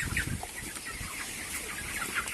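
Broiler chickens clucking in a poultry shed, a busy, close chorus of overlapping clucks and squawks over a constant noisy background, with no one speaking.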